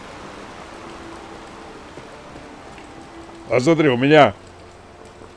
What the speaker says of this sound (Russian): спрятаться от этого поганого дождя